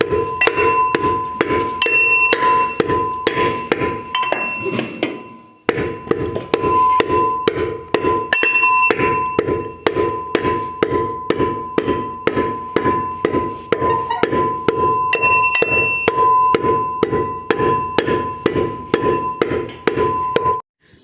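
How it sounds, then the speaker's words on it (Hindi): Rhythmic metallic pounding in a havan dasta, an iron mortar and pestle, crushing hot tin and mercury preparation; steady close, loud strikes repeat throughout with a ringing clink, broken by a brief pause near the middle. "अब आप ये हवन दस्ते में डालेंगे और कुटाई शुरू कर देंगे।"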